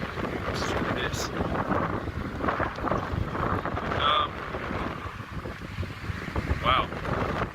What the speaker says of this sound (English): It is so windy, it's creepy.